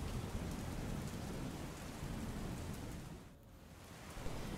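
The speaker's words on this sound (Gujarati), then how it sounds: "બનાસકાંઠા જિલ્લામાં અનરાધાર વરસાદ" Heavy downpour at Ambaji in Banaskantha district, a steady dense roar of rain drumming on surfaces with a low rumble, loud and continuous with a brief dip near the end.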